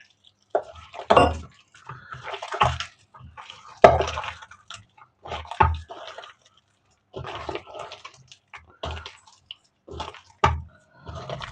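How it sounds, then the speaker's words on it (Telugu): Irregular wet squelching and splashing as water is worked by hand into Mysore bonda batter with baking soda, in short bursts separated by brief pauses. "ఇప్పుడు వాటర్ యాడ్ చేద్దాం"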